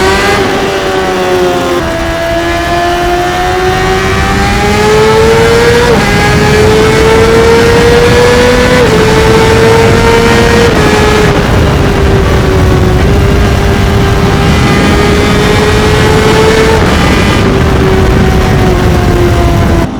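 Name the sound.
Honda CBR600RR motorcycle accelerating through gears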